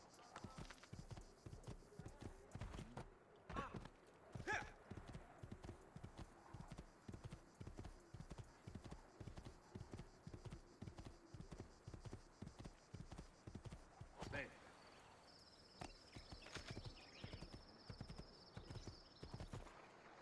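Galloping horse hooves clip-clopping in Assassin's Creed II, a steady fast rhythmic run of hoofbeats with occasional louder thumps and game sounds, while a person talks over it.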